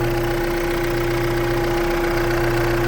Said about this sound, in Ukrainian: Чисто працює двигун